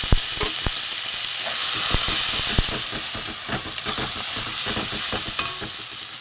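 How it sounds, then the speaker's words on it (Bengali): Pea paste sizzling in a hot frying pan for matar shutir kochuri, with a steady loud hiss and crackle, plus scraping and stirring clicks from a utensil and no talking. "এটা আমি মটরশুঁটি পেস্টটা আমি দিয়ে দিলাম।"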